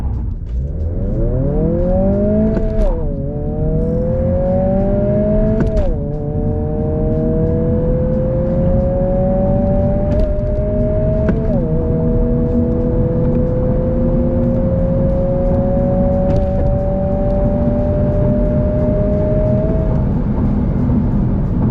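2022 Honda Civic Si launching hard and pulling through the gears over a quarter mile, engine note climbing steadily with distinct shift breaks, loud and continuous from inside the car.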